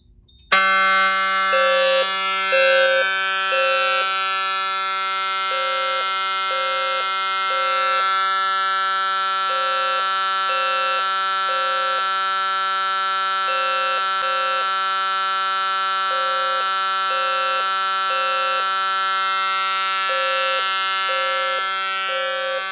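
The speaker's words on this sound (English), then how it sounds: "And the alarm is silenced." A fire alarm system under a key-operated test sounds continuously, a steady loud electronic tone broken by a repeating pulsed pattern of horn-like beeps, with no talking throughout.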